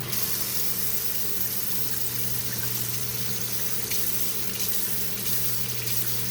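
A tap runs steadily into a sink as something is rinsed out, giving an even, continuous rush of water that stays at constant loudness throughout, with no talking.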